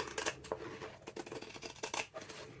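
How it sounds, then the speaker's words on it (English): Close, quiet snipping of scissors cutting through paper, a quick irregular series of crisp cuts with no talking. "I'm just going to trim this down"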